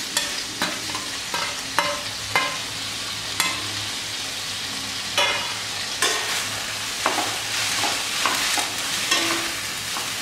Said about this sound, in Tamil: நல்லா பச்சை வடை போகிற வரைக்கும் கொஞ்சம் நேரத்துக்கு வதக்கி விடுங்க